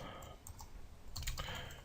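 Quiet clicks of typing on a computer keyboard during spreadsheet coding, a handful of soft key taps scattered over a brief moment against faint background hiss.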